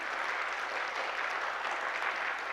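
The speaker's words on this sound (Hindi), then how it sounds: "आपका पुनः हृदय से, दिलों से और तालियों से पुनः हम स्वागत करते हैं।" Steady audience applause welcomes a speaker at a Brahma Kumaris youth gathering, a soft, even wash of clapping heard from a distance without any talk over it.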